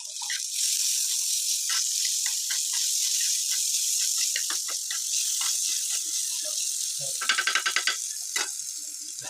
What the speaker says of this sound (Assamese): বাকী এতিয়া পিঠা ভাজিম